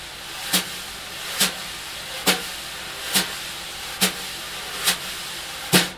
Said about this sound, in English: when you're making the sweep, as you come in to the top of the head, you just move the brush faster